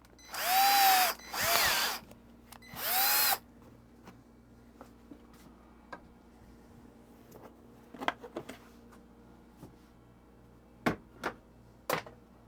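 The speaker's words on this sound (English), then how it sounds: "So first thing I think I'll do is I'll drill the holes," A power drill boring holes for T-nuts inside a Ranger Tug boat gives three loud, close bursts of a few seconds each. Faint knocks and taps follow in a quiet space.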